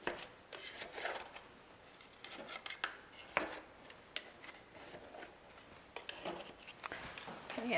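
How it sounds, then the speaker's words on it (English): A knife blade scrapes around the inside walls of a metal pound cake pan to loosen a baked classic pound cake, giving quiet, intermittent rasping strokes with a few small clicks. "Just take either a knife or a flat edge spatula like this. Just run it around the inside"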